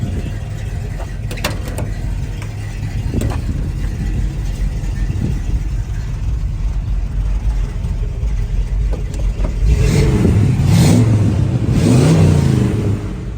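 The engine of a 1957 Chevrolet C/K 10 truck idles with a steady, loud rumble close by, then revs up in two strong surges near the end.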